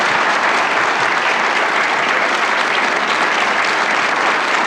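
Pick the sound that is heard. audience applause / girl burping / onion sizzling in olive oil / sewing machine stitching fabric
audience applause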